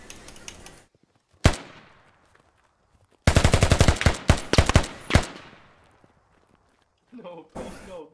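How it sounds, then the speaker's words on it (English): Gunfire in the military shooter game Squad: a couple of isolated loud shots, then a rapid automatic burst of closely spaced cracks with echoing tails, ending with another sharp report, all alone without talk. "No, please no, bullets scaring me."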